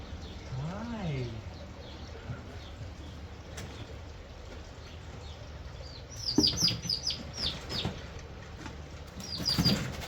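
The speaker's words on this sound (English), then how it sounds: "So now we got Peepers here, getting to know Piper the turkey" Young turkey poults in a brooder give soft, high chirps and peeps, scattered in short bursts that cluster toward the end, with a voice speaking briefly near the start.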